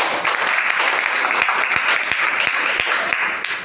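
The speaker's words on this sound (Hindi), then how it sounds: "चारों पांचों के लिए जोरदार तालियां" An audience claps enthusiastically, a dense burst of applause with a few louder individual claps standing out.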